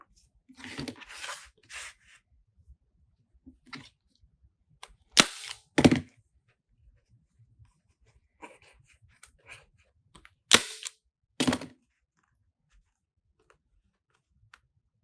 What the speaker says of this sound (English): So I just need to staple my pipe cleaners on the heart.